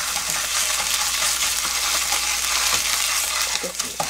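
Chili powder is stir-fried quickly in hot oil in a pan, a loud, close, continuous sizzle with scraping stirs and a few light clinks near the end.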